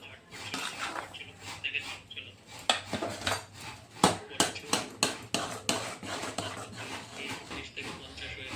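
Rice flour dough being stirred in a pot makes repeated knocks and scrapes of a utensil against the pot, sparse at first, then a fairly regular rhythm of sharper hits.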